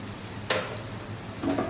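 Govindobhog rice frying in a pan with salt for Gondhoraj Basanti Pulao, a steady soft sizzle with a scrape of stirring and a brief louder stir near the end.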